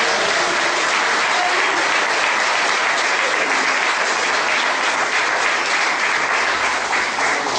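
Sustained congregational applause fills a church service, loud and dense, a steady wash of many hands clapping from start to finish with no pause.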